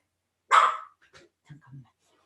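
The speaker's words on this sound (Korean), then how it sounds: "우리 강아지들 소통을 하고 싶어서 죄송합니다" During an indoor lecture, a dog gives one sharp, loud bark close by, followed by a few faint, quieter yips and grumbles.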